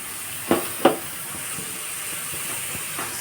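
Potatoes, green chilies and chopped onion frying in a wok, a steady low sizzle with two sharp clatters near the start as ingredients drop in, then a few softer knocks.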